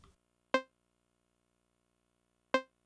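Two short-decay synth notes from Ableton, each a crisp pluck that dies away almost at once, about two seconds apart against silence.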